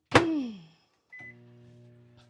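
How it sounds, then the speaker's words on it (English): A sharp clunk of a door closing, then a beep and the steady low electrical hum of a microwave oven starting to run. "I'm going to pop it in the microwave."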